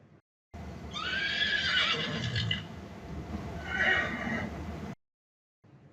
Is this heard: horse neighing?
yes